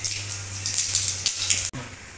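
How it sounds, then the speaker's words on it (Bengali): Panch phoron spices sizzling in hot mustard oil in a wok while making samosas: a bright, crackling hiss that flares in waves over a steady low hum, with a brief break near the end. "এখন কড়াইয়ে সরষের তেল দিচ্ছি, অল্প দুটো 5 ফোড়ন।"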